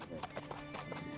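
Horse hooves clip-clop at a steady walking pace while a rider sits on the horse, the clopping somewhat distant and mixed under continuous talking.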